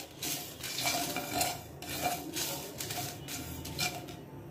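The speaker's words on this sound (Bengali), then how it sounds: "এবার সব মশলাটা ভালো করে ভেজে নিব" Cumin and mustard seeds roasting dry in a pan for a Bangladeshi olive pickle spice mix, with soft crackling, scraping and stirring clinks against the metal, fairly quiet and irregular.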